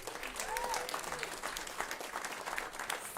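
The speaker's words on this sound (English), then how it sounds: "So please give them a round of applause." Audience applause at a regenerative agriculture celebration event, a steady, moderately quiet wash of many hands clapping throughout with faint crowd murmur.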